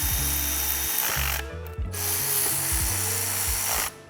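A ratchet with a 10 mm socket tightens heat shield studs during a turbocharger install on a GM 1.4L Chevy Cruze, giving rapid, close clicking in several bursts with brief pauses and no speech.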